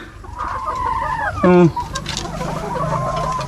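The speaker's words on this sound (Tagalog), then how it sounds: "ito yung alaga ni kuyang mga manok" Chickens cluck and murmur nearby, with one loud squawking call standing out briefly among the steady clucking.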